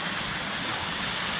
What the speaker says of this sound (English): we're like alongside the tallest waterfall where it starts cascading down